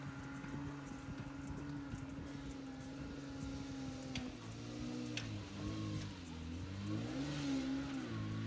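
A supercharged Jeep on 37-inch tyres climbs a rocky off-road track, its engine droning and then revving up and down in rising and falling pulls, moderately close, with occasional ticks and no talk.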